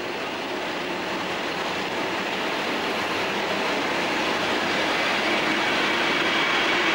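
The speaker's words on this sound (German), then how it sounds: "Anfahrt der 116017 mit ihrem Eilzug in Richtung München." A DB class 116 electric locomotive, an old single-sided Buchli-drive engine, pulls an express train away toward Munich, a continuous loud rolling rumble and rail noise that swells gradually with no voices.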